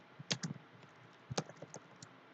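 Faint keystrokes tap on a computer keyboard while network switch commands are entered, two short clusters of clicks a second apart in a quiet room.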